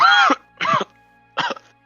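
A voice imitates a cough: three short, raspy throat-clearing bursts, the first longest, spaced apart with silence between.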